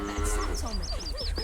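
Cows low repeatedly in The Witcher 3: Wild Hunt, several drawn-out moos overlapping against steady low game ambience, close and clear, with no speech.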